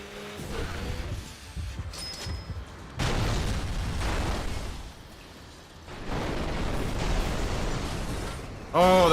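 A car crash explosion in the racing game Burnout 3 Takedown, with loud broadband bursts of crashing and blasting that come and go over several seconds amid game engine noise.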